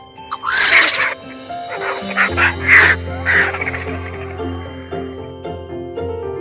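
Harsh crow caws ring out several times in a row over a light musical bed with sustained tones, the calls fairly close and prominent.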